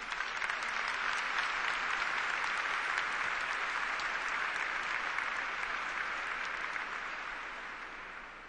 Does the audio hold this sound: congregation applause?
yes